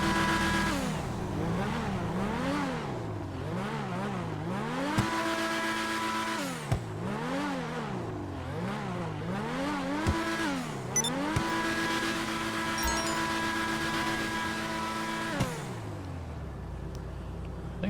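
A Progen GP1 supercar in GTA Online revs repeatedly, its engine note sweeping up and down in quick cycles, then holding steady higher revs with gear shifts, loud and close with no talk.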